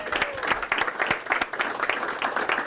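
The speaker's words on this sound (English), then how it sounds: "Give it up for Pam Jones." Audience applause at a live coffee and commerce networking gathering, a dense steady patter of many hands clapping continuously, fairly near and filling the room without pause.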